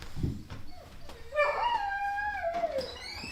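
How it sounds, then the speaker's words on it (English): Dog at the door howls and whimpers to be let in, with a rising then falling high whine and short yips, fairly close but soft, and no talk over it. "I gotta let the dog in just a second."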